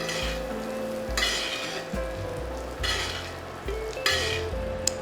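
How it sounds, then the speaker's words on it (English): Steak sears in a hot pan while being basted with garlic butter, a loud steady sizzle broken by bursts of spooning and stirring against the pan, with no voices. "We can go ahead and start butter basting."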